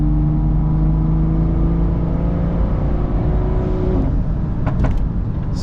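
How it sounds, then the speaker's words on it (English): Sports car in sport mode, its exhaust giving a steady close engine drone with faint crackles and burbles near the end, heard from inside the cabin while driving. "put sport mode into a sport and sport plus to have the nice aggressive burbles"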